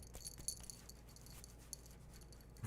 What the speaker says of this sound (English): my co-host, Umbreon, who is breathing quite hard because he just got back from a long walk